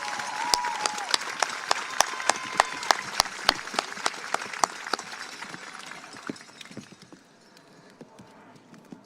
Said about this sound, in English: How about a round of applause for those students?